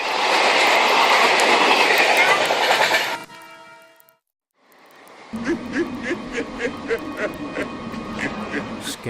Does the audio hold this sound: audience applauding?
no